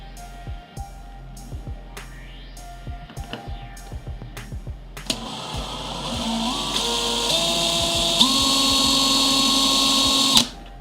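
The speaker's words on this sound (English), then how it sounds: "I do believe that that is a dull drill bit" A power drill fitted with a dull 3/16 bit whines steadily at close range, its pitch stepping up a few times over several seconds before it stops abruptly, after sparse knocks and handling sounds.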